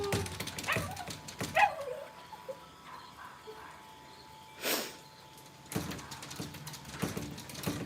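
Several Cavalier dogs outdoors on a rainy morning give a few short barks and whimpers, with one sharper yelp early and a burst later, fairly faint over a quiet background.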